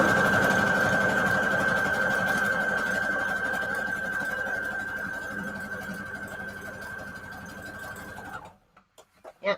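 A sewing machine runs continuously for about eight seconds, stitching a scrap fabric junk journal cover with a steady, loud, whirring hum, then stops abruptly, leaving a few soft handling clicks.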